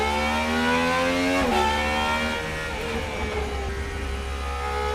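A Gordon Murray GMA T.50s V12 engine revs hard, its rising whine climbing, dropping briefly at a shift, then building again, loud and close throughout.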